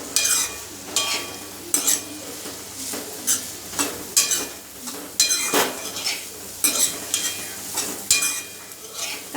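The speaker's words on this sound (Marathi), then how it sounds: "आलं, लसूण आणि हे आधी चांगलं तेलात फ्राय करून घ्यायचं।" Ginger and garlic fry in hot oil for a Malvani-style sambar while a metal spoon repeatedly scrapes and clinks against the pan, a soft sizzle underneath the steady stirring strokes.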